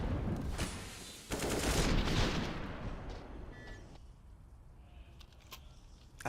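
Gunfire during a professional Counter-Strike match on the Overpass map at the IEM Cologne 2023 esports event: dense bursts of shots, loudest in the middle and thinning toward the end, with sparse single cracks.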